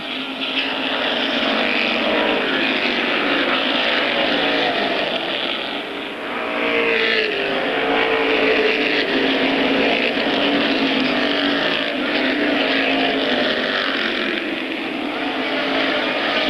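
Race cars roaring around an oval at Airborne Raceway during a 1992 weekly event, a dense continuous engine drone with cars battling for position, loud and steady with a brief dip midway.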